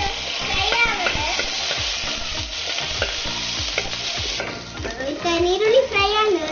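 Onions fry in a pan for a Tulu-style fish curry, with a close, continuous sizzle and a spoon rhythmically scraping and stirring, while a voice talks over the cooking.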